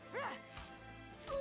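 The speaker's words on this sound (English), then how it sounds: "I now hear my doogie barking in her sleep at the moment." A pet dog barking in her sleep gives a few soft, muffled yips and whimpering woofs, faint and slightly distant, over about a second and a half.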